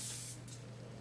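Brief spray of tap water rinsing leftover barbecue sauce out of a jar, a hissing gush that drops off quickly and trails into a softer trickle.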